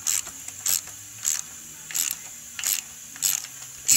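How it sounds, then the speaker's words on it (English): A valve spring compressor is loosened on a Boss Hoss motorcycle's LS3 engine, giving a series of about seven short, sharp metallic clicks and ratchets at a regular pace, close up, with no talk. "So now we are going to take and loosen up our compressor, and we'll see it tighten up on the keepers."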